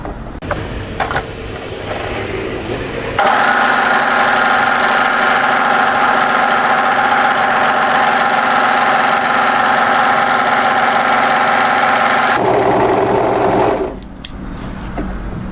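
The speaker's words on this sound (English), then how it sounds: "we want to do is overlock from the hem on this side up to the notch here" Overlocker serging the fabric edge of a knit tee dress from hem to notch, a loud, fast, even mechanical hum running steadily for about nine seconds between brief handling clicks and rustles.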